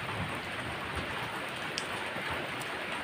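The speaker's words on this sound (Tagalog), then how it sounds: "Lakas talaga ng ulan guys" Heavy rain pours steadily in a dense, hissing wash during a storm with lightning, with occasional sharper drops standing out against the constant downpour.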